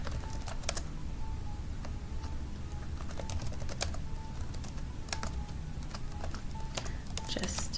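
Computer keyboard typing in quick irregular bursts of key clicks and shortcut presses, close and fairly soft, under quiet ambient room tone.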